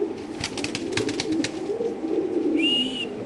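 A domestic desi pigeon with a ring on its leg, on a pigeon farm, gives soft, low, burbling coos that roll on steadily at close range, with faint chirps and a brief whistle-like tone near the end.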